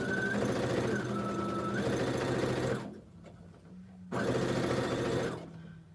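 A sewing machine runs at a steady buzzing whir as quilt block pieces for an economy block are fed through it, stopping briefly in the middle and then starting up again, loud and close.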